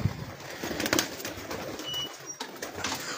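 Racing pigeons coo on a rooftop in Punjab, their soft calls repeating over a busy, steady background hum with no talk.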